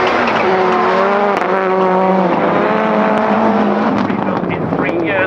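Rallycross cars, among them a Ford Fiesta, roar off the start line at Croft in British Rallycross, a loud continuous engine blare with rising gear changes and brief tire squeal, a commentator speaking over the pack throughout.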